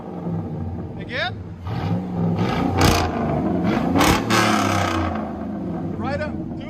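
A 2005 GMC Sierra pickup with a 5.3L V8 and Flowmaster Super 10 true dual exhaust revs loudly up close, its deep rumble swelling through two strong peaks with sharp bursts, while voices talk over it.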